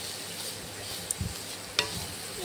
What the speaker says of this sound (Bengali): গ্রেট করা গাজর এখন ভেজে নিচ্ছি তেল দিয়ে